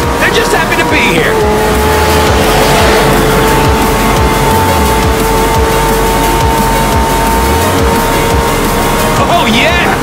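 Racing cars in Forza Horizon 4 roar loudly and continuously as they accelerate together at the start of a festival race, engines droning steadily with tire noise, and a voice talks over them.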